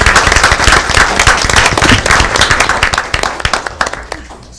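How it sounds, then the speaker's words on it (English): Loud, dense applause from parents at a school board meeting honoring students, many hands clapping rapidly and close, sustained before tapering slightly at the end, with faint voices mixed in. "you can clap"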